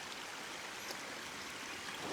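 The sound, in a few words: small stream flowing in woods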